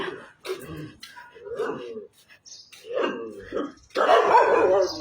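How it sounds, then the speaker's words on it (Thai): A dog barks in a residential lane in Thailand during a neighbourhood cleanliness inspection, with a short loud burst near the end. Someone talks throughout. "อย่าเห่าลูก"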